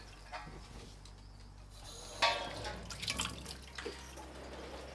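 Water splashed onto a hot Blackstone griddle under a dome while a katsu chicken grilled cheese sandwich cooks, giving a sudden sizzle and hiss partway through, with a few softer drips and bubbling spurts after it.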